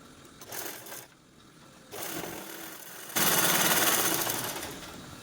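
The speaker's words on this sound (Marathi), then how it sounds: "तर बघा या साईडने आपण झिपवरती दापटीप पण देऊन घेतली" A sewing machine topstitches along a zipper on fabric while a multi-pocket bag is being made. It runs in short stop-start bursts that grow into a louder, steadier run of stitching near the end, with no talk.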